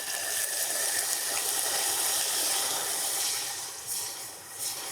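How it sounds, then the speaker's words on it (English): Half a cup of water poured into hot amber caramel for meringue syrup sizzles and splutters in a loud, steady hiss that eases slightly toward the end. "And now add your 1/2 cup of water. It will splutter."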